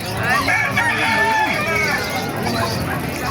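Roosters crow loudly and nearby at a market in Bocaue, drawn-out calls overlapping amid a busy babble of voices and clucking fowl.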